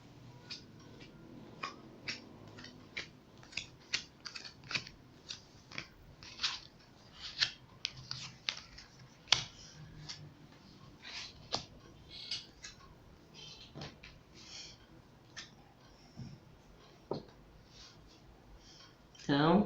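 A Gypsy tarot deck is shuffled in a run of quick, crisp card flicks and soft riffling clicks, close and fairly quiet, with a voice speaking faintly underneath.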